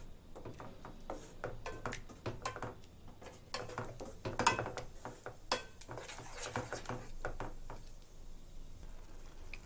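Eggs being stirred into tomato gravy in a pan: quiet, repeated clinks and scrapes of a spoon against the metal, with a slightly louder knock in the middle.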